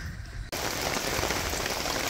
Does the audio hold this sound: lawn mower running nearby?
no